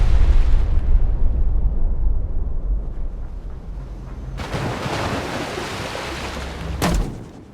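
Depth charge explosions in the naval video game Destroyer: The U-Boat Hunter: a deep, rumbling underwater boom that slowly fades, then a sharp burst of spray and a second short blast near the end, with no talk.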